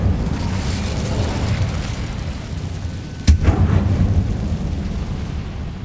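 An Incendio fire spell blast in Hogwarts Legacy hits as a single sharp boom partway through, trailing into a roaring rumble over a steady low background drone.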